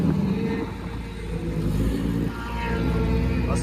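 Race cars at i44 Speedway rolling out onto the track, a loud rumbling, swelling engine drone that rises and surges across the clip with no clear speech.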